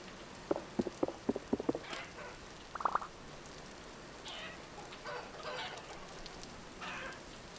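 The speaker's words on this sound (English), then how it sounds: "Sounds like those chickens got into my little cellar." A few soft clucks and short pecking taps from chickens in the video game Vintage Story, fairly faint, over a steady low background hiss, with scattered quieter chirps later.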